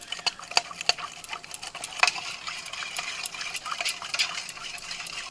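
A spoon stirs Kashmiri chilli powder into mustard oil for a tandoori chicken marinade, making a quiet run of repeated scraping clicks and taps close by, with no talking.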